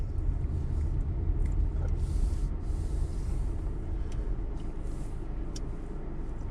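A car rolls slowly into a parking spot, its low engine rumble and tyre noise steady and close, with a few small clicks and thumps and no talk.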